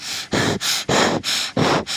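A voice imitates wheezy, labored breathing: four raspy breaths in a steady rhythm, close and loud, with no talking.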